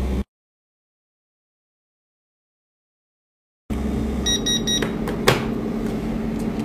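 Vacuum pump of a mini 3D sublimation transfer machine running with a steady, loud mechanical hum and drone after a stretch of silence, with a few brief beeps and a sharp click over the constant noise.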